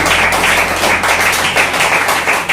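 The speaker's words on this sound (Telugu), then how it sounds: "ఒక్కసారి చేతులు ఉన్నవారు మాత్రం చప్పట్లు కొట్టి ప్రభు నామమున మహిమపరచుదాం" A church congregation claps hands together in praise during a Telugu Bible sermon, a dense steady patter of many palms filling the room, loud and continuous with no talk.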